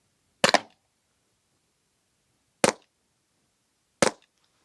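A non-lethal pepper ball launcher fires rubber-encased steel balls into cardboard: three sharp, close shots with silence between them, the first showing a quick double impact.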